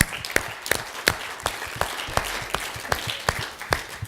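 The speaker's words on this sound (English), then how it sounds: "Can we give these ladies and gentlemen a certificate and a round of applause?" Applause at MIPIM 2011, with scattered, rhythmic clapping from a small audience that continues steadily for several seconds without talk.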